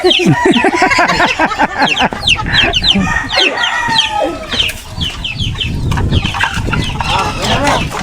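Chickens cluck and squawk loudly and close by in a busy, dense burst of calls, with people's voices mixed in underneath.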